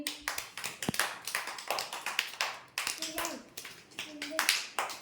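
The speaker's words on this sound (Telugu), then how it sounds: "మీరు క్లాప్స్ కొట్టండి" Children clapping during a classroom pencil drawing activity, a run of close, uneven hand claps in bursts with voices talking in between.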